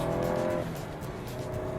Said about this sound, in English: Going along at 40 miles an hour, pop it into second gear,